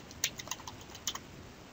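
Quiet keystrokes on a computer keyboard as a search keyword is typed, a handful of light, irregular clicks close by with short pauses between them, no voice.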